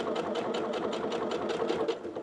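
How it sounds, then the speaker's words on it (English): A sewing machine top stitches a mini holiday stocking, running steadily with an even, rapid mechanical rhythm close up, loud and continuous with no voices. "we're going to go ahead and top stitch"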